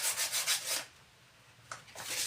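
Sandpaper rubs back and forth over a Nerf blaster being prepped for spray paint, several quick scratchy strokes, a quiet pause, then more strokes resuming close up.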